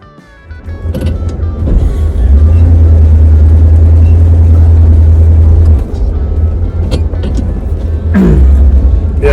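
A Jeep Wagoneer on 16-inch rims rolls down the road with a steady loud engine and road drone swelling and dipping, wind rushing, and brief voices near the end.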